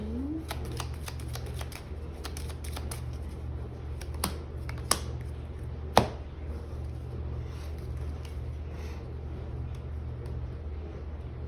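A deck of cards being shuffled during a Smash Up board game session, giving quick repeated riffling flicks and a few sharper snaps over a steady low hum, with no talking.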